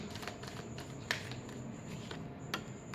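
Tarot cards are shuffled by hand, a quiet, close, soft riffling and sliding with a couple of sharper snaps as cards slip out together.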